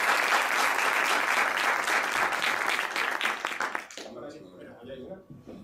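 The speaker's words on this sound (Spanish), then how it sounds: "Antes un aplauso a Nacho," An audience applauds the speaker Nacho at a video game entrepreneurship conference in Andalusia, a dense burst of clapping that thins out and stops partway through, followed by a quieter room with a voice.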